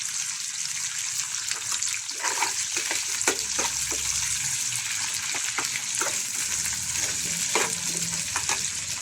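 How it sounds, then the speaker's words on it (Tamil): Onion and green chili fry in hot oil for a bitter gourd kulambu tempering, giving a loud, steady close sizzle with intermittent spatula scrapes and stirring clatter throughout and no voices. "வெங்காயம், பச்சை மிளகா எல்லாம் போட்டு ஒரு தாளிச்சுக்குவோம்."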